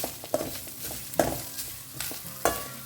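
Soya chunks fry in a pan with a soft, fairly quiet sizzle, while a spoon knocks and scrapes at them in distinct strokes about every second.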